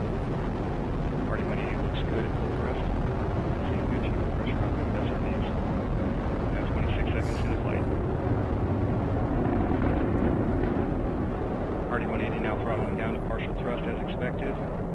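An Atlas V rocket with its RD-180 main engine and solid rocket boosters climbs during the Starliner OFT launch, a continuous broad distant roar lasting the whole stretch beneath a launch commentator's voice.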